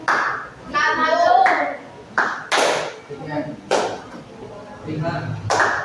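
Students in a classroom play a counting clap game on multiples of two, giving short, sharp bursts of hand claps between children's voices calling out in turn.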